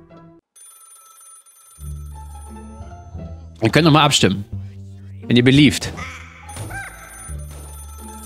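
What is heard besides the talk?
telephone ringing in video game Black Ops 3 Zombies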